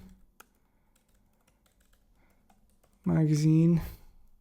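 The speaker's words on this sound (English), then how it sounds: "So I can just type in Cosmo" Light, sparse keystrokes on a computer keyboard tap quietly in a calm room, followed near the end by a brief voice.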